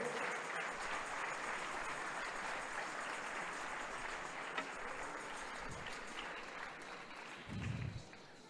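A church congregation applauds throughout, a dense steady wash of clapping from a large room that swells briefly near the end, with no voices over it.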